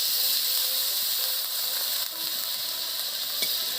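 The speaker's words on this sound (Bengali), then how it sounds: "এটাতে আমি হালকা করে জল দিয়ে দিচ্ছি" Jackfruit masala frying in a pan after a little water is added, a constant dense hiss and sizzle heard close, with faint clinks and small shifts in intensity.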